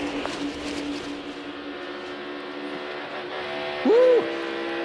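A NASCAR Cup Series stock car at Darlington racing under a steady, loud engine roar that holds through, with a brief tonal chirp near the end as the car gets loose and the driver lifts off the throttle.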